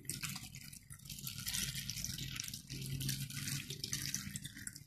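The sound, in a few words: cold water poured over watermelon rinds in a pot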